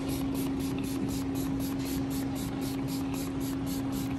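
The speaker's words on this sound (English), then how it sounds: "We'll spray it on the pad." True Cut conditioner sprayed from a bottle onto a sanding pad used for resurfacing a bowling ball: a continuous close, loud hissing spray that holds steady throughout with no talk.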